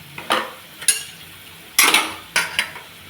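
Capsicum tossed into onions and chillies frying in oil, heard as sharp metal clinks and scrapes of a spoon against the pan in irregular bursts, close up and with no voice.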